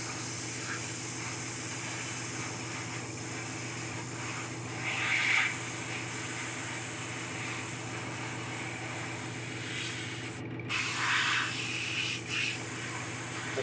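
Airbrush spraying a wet coat of paint onto a Spawning Pool Venom model, a steady hiss over a constant motor hum, with a couple of slightly louder bursts partway through.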